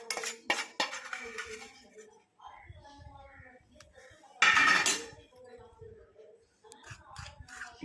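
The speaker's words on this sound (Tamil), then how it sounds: "இப்போ நல்லா எல்லாத்தையுமே ஆட் பண்ணிவிட்டு நல்லா மிக்ஸ் பண்ணி விட்டுக்கோங்க." Ingredients being stirred and mixed in a bowl for a homemade skin-whitening remedy, giving clinking, scraping utensil sounds in short bursts with one louder rattle midway, under quiet talk.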